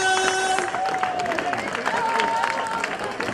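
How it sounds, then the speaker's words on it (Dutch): Applause from a gathered crowd at a local Doesburg event honoring the top goal scorer, steady close clapping mixed with crowd noise and a sustained tone, with voices talking over it throughout. "De dames en heren, mag een applaus voor de topscorer"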